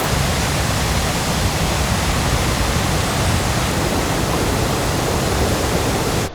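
A waterfall in the Brecon Beacons roars as a dense, unbroken hiss of falling water, very loud and close, as if heard from right beside or behind the falls, with no other sounds.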